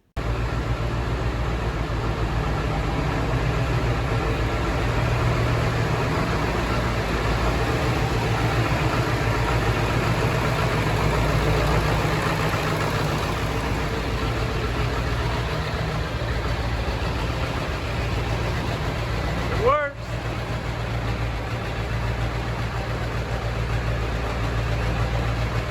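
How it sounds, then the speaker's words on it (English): A Ford F-250 shorty project truck engine idles steadily after being started, a continuous low rumble held for the whole stretch with one brief click or knock near the end and no talk. "I've already started the truck and everything with the setup,"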